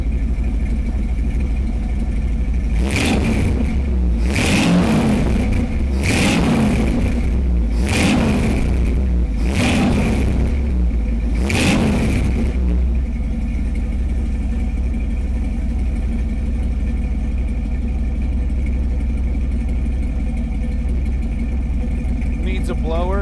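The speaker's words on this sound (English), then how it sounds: "I put my mic next to the exhaust" A car engine idles through its exhaust, recorded close to the exhaust, then revs hard five times in a row, each burst a loud, rasping roar, before settling back to idle.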